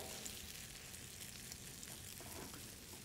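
Potato frittata egg mixture sizzles steadily in a hot pan for a breakfast sandwich, a continuous, even crackle close by with no voices.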